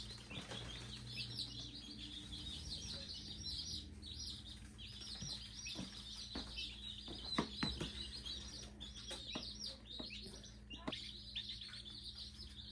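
Baby chicks in a brooder keep up a dense chorus of high, quick peeping chirps, steady throughout and fairly faint, with a few soft knocks and scuffles mixed in.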